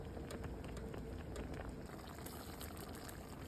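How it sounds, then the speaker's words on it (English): A pot of ekwang, a traditional Cameroonian dish, boils hard with a steady, dense bubbling and spattering that holds close and continuous, with no talk over it. "As you can see, it's really boiling."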